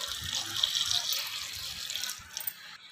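Water pouring into a pressure cooker over chopped guavas, a steady close splashing stream that thins and trickles toward the end, fairly quiet with no talk.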